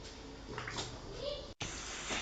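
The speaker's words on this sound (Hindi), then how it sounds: "ऑयल गर्म हो चुका है, अब हम इसमें आलू डाल देंगे" Potatoes (aloo) slide into hot oil and start frying for aloo baingan, giving a steady close sizzling hiss while a person talks over it.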